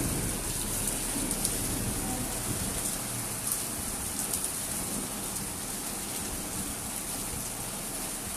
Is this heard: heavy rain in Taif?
yes